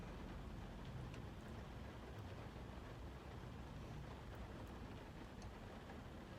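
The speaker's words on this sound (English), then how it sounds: "It's raining." Steady, faint rain falls outdoors as an even broadband hiss with scattered soft drop ticks, continuous and without talking.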